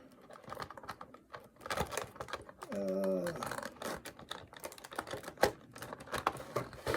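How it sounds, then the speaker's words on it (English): Small plastic packaging holds are snapped off a Lord Drakkon Power Rangers toy, making close, scattered crisp clicks and cracks, with someone talking nearby and a brief tonal squeak in the middle. "I can just break all these little plastic holds on it"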